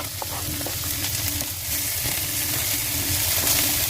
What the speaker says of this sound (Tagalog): all you're going to do is to mix it all together and fry